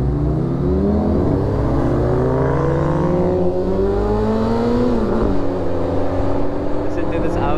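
An Audi revs hard on a morning drive with a group of classic and exotic cars, its engine note climbing steadily and loud up close, with talk mixed in over the steady roar.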